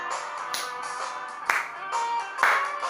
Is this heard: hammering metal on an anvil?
no